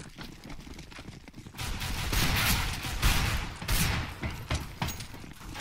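Pistol gunfire crackles through a Counter-Strike: Global Offensive match in rapid bursts of sharp shots, dense and loud, with overlapping reports from several players.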